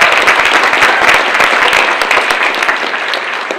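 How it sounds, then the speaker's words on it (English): Steady applause from an audience at a Democratic league breakfast, dense clapping filling the room at close range and holding fairly even throughout. "Round of applause."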